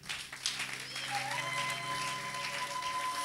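Church congregation applauding in a steady, dense wash of clapping with a held tone and voices mixed in, moderately loud throughout.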